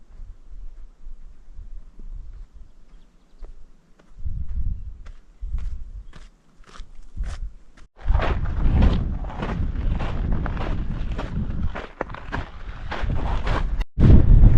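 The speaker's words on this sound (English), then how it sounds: "This wind feels amazing." Wind blows across a lonely mountain top, starting as faint gusts with scattered footsteps, then becoming a loud, steady roar of wind buffeting the microphone for the second half.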